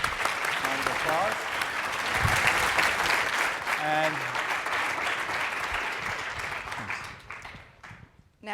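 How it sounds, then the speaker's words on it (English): Audience at a renewable cities forum's closing plenary breaks into a sustained round of applause, steady dense clapping that fades out near the end, with a brief spoken word over it. "Round of applause."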